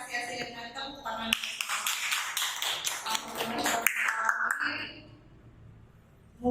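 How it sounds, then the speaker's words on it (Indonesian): Audience applauding at a school training event after a presentation, a dense patter of claps swelling after a voice, lasting several seconds before fading out. "boleh kita sama-sama apresiasi dengan tepuk tangan"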